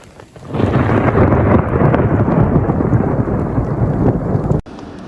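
Thunder rumbling during a heavy snowstorm in Yorkshire, a loud, sustained low roar that swells after half a second, holds steady for about four seconds, then cuts off abruptly.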